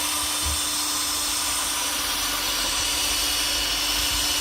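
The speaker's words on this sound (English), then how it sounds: "I've got the drill on, this drill's got 2 speeds on it, I've just got it on the slowest speed" Two-speed drill running at its slowest setting, polishing a dull, yellowed car headlight under moderate pressure; a steady, close whine with a constant hum, unbroken throughout.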